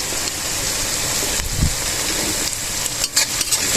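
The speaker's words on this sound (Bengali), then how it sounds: "দেখো এটা হালকা ফ্রাই হয়ে গেছে" Rice with beans and carrots frying in oil in a pan at home, a steady close hiss of sizzling with a brief thump of stirring partway through and a few clatters near the end, no talking.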